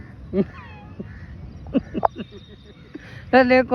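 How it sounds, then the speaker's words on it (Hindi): Crows cawing nearby outdoors, several short harsh calls scattered through the clip and a louder cluster at the end, with some background voices. "तो देखो कौए खेल रहे हैं अभी"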